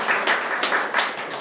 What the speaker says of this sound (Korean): 다른 분들이 하셨다니까 우리 박수 한번 칠까요?